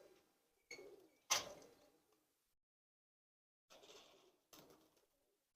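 A female racing pigeon coos a few times in short soft bursts separated by quiet pauses, close by, with a sharp tick or click among them.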